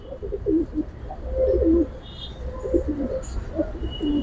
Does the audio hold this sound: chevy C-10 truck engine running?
no